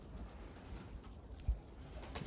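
Budapest and Mykolaiv breed pigeons coo softly while out on a walk, a faint low murmur against quiet outdoor background, with no speech.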